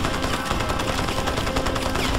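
Rapid machine gun fire from the video game Crysis forms a dense, continuous burst of loud shots with no pauses across the short stretch.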